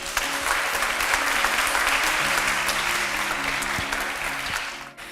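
Sustained applause from a lecture audience after a talk on North Korean defection and reunification, steady and dense throughout before tapering off at the very end.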